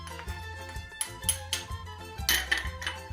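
Light metallic clinks and scrapes of a utensil against a bowl as cornstarch and baking powder are whisked together, a string of close, quiet taps with no speech.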